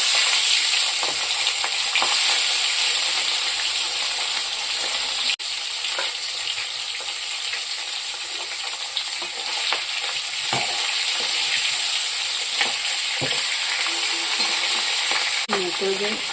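Rohu fish head frying in hot oil in a kadai, a loud continuous sizzle with occasional stirring and spatula scrapes, no voices.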